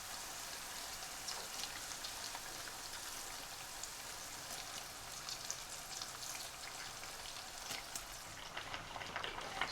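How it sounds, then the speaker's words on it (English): Beef frying in a pan on low-medium heat, a steady, even hiss and crackle of sizzling that holds constant throughout, close and soft with no voices. "So I'll start adding the beef to it now."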